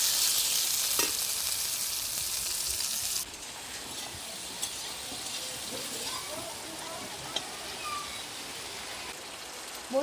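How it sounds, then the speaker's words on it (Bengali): Eggplant pieces fry in a pan, a soft continuous sizzle with occasional clicks of the utensil. Heavy rain can be heard in the background, and the hiss drops sharply partway through. "তো আমাদের এখানে বেগুনগুলো ভাজা ভাজা হয়ে এসছে"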